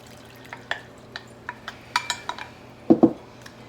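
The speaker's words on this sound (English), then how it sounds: "I just have a strainer here, and I'm just going to press out some of the extra liquid in here." Liquid pressed out of steeped violet petals through a metal strainer, a series of close scraping clicks and taps with a pair of louder clunks near the end.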